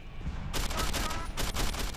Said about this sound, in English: I guess I gotta shoot him through here.